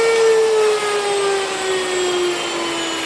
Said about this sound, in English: You want this to continue like this for a few seconds, because what that's doing is it's cleaning your burrs on your mill.